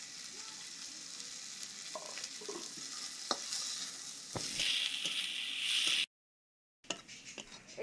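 Onion, ginger and dried chili frying in a pan with a steady close sizzle and occasional stirring clinks, briefly cutting out near the end before resuming.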